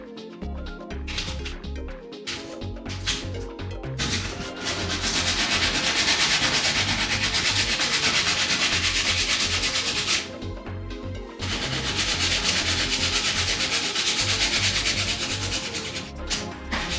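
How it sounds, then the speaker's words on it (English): Sandpaper rubs over a homemade dance pad in long, steady scratchy strokes, each lasting several seconds with short pauses between, loud and close over a thumping music track playing in the background. "Get some actual sandpaper involved."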